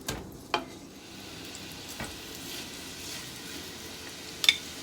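Bratwurst browns in a pan over medium-low heat with a soft, steady sizzle, punctuated by a few light clinks of utensil against the pan, close by and with no talk.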